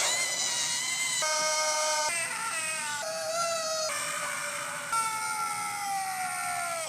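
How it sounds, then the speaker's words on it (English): Troubled characters in the Elite Beat Agents video game cry out for help in stylized, wavering, siren-like wails that shift in pitch over a few seconds, loud and continuous with no plain speech. "when the troubled people of this game shout out for help before a mission, they look and sound like this."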